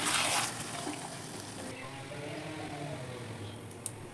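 Marinated chicken with two green chillies frying in a pan over a low-medium flame, giving a steady close sizzling hiss that stays even throughout, with a brief louder burst at the start and a small click near the end.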